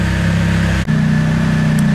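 A budget car engine, fitted with a cheap eBay replacement part, idles with a steady mid-pitched hum. A brief dip leads into slightly raised revs that carry on evenly, close up with no talking.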